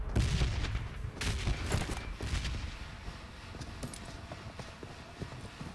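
Bursts of gunfire and explosions from a battle video game, a dense crackling volley loudest in the first two seconds, then thinning into scattered distant pops and rattles.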